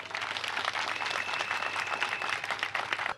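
A crowd gathered at an ambulance handover ceremony in Côte d'Ivoire applauds, producing a steady, moderately loud mass of clapping that holds evenly from start to finish.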